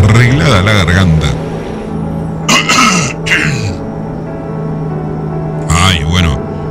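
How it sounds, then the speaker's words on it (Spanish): A man clears his throat in several rough, harsh bursts close to the microphone, with the low hum of a truck cab running steadily underneath. "Me corro del micrófono para pegarme una arreglada a la garganta."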